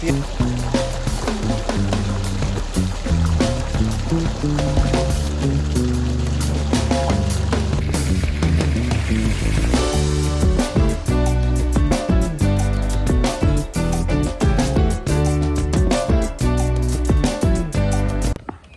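Water gushes steadily from a borewell fitted with a newly installed pump motor, a loud continuous rushing splash with broadband noise running throughout, and irregular sharp clicks or knocks scattered over it.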